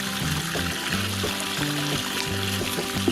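Liquid pours from an uncapped bottle in a continuous gurgling trickle, steady and fairly close, with a rhythmic glugging pattern throughout.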